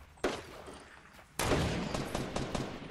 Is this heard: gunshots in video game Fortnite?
yes